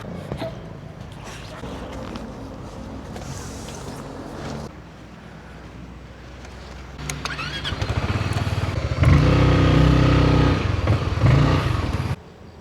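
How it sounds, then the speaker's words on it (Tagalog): A motorcycle engine runs close by, idling unevenly before revving up louder and steadier toward the end, then cutting off. "tatanggalin ko muna to kasi lilipat ko na yung pwesto ng motor"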